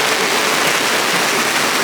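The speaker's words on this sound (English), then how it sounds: "it stopped raining, and then it started pouring again." Heavy rain pours steadily onto an RV awning and the ground at a Catskill campground in Gilboa, NY, a dense and loud continuous hiss with no pauses.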